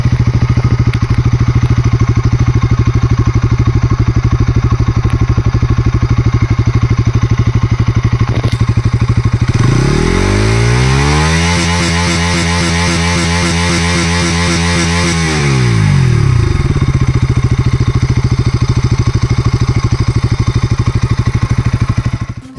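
A 2023 Bajaj Pulsar NS200 BS6 motorcycle engine idles steadily and loudly, revs up briefly midway with a rising then falling whine, and settles back to a steady idle.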